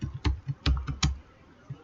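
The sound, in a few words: typing on a computer keyboard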